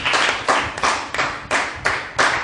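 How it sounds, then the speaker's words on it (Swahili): A church congregation claps hands in a steady rhythm, about six sharp beats, loud and close, with no talking. "Pigia Yesu makofi."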